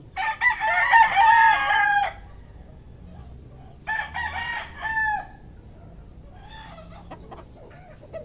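A backyard rooster crows loudly and close, two long crows a couple of seconds apart, followed by softer clucking from the chickens.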